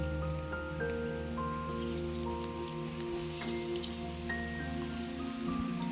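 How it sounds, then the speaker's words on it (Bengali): Bengali vegetable chops fry in hot oil, giving a steady bubbling sizzle with scattered crackles under faint tonal background music, and no one speaks. "এগুলো ভেজে নেব আমি এরকম করে সবগুলোই ভেজে নেব"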